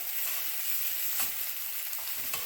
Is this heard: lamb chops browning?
yes